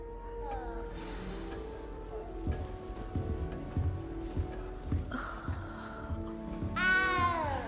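A cat in Hogwarts Legacy meows amid game ambience, with a clear rising meow near the end over a soft background hum and scattered clicks, and no voices.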